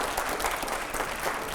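An audience at a televised discussion with Swami Ramdev claps together, a dense, moderately distant burst of applause holding steady throughout.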